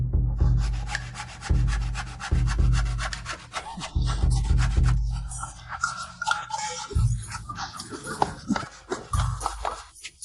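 Handsaw cutting through a human skull during an autopsy, heard as steady, close rasping strokes of a blade grinding back and forth in a repeating rhythm.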